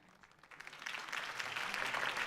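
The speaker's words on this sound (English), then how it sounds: "could have heard that applause" Crowd applause at a political rally in the Batman Telltale video game, a dense wash of clapping that swells steadily louder over a couple of seconds with no voices on top.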